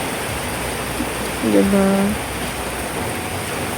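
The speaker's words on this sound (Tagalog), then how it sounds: "So, dito kami nakisilong dahil ayan, umulan na talaga siya." Steady rain falls on a house construction site, giving a constant even hiss throughout, with a brief spoken question partway through.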